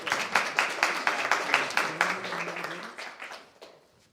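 An audience gives a round of applause for elementary school principals at a board of education work session, with dense, steady clapping for about three seconds that thins and fades out by the end.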